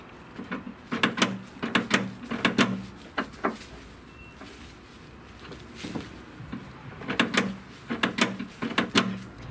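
A nut being tightened on the bar of a Mitsubishi Pajero rear door, with two close bursts of rapid metallic clicking, like a ratchet, separated by a quieter pause.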